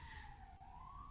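Emergency vehicle sirens in New York City wail as a steady, slowly gliding tone, faint and distant, sustained throughout with low traffic rumble beneath.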